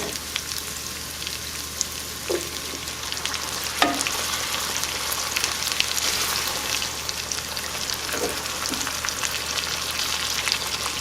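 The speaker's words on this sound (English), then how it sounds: "So now I'm going to start adding the beans." Beans go into a pan already sizzling with bacon and onions, producing a loud continuous fry crackle with a few scattered clinks and stirring knocks, no voices.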